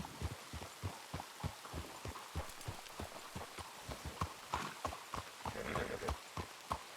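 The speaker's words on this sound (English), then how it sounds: "Are there invisible horses that I'm hearing again?" Horse hooves clip-clop in the Red Dead Redemption 2 video game as a brisk, steady run of soft, low thuds at a trotting pace, heard faintly and alone with a dull background hiss.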